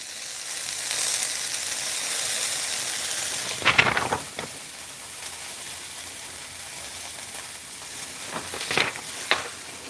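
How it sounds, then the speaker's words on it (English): Chinese long beans stir-fry in a hot pan with a hissing sizzle that surges into bursts of steam and spatter near the middle and end, then settles back to a softer steady fizz. "That sizzle is amazing."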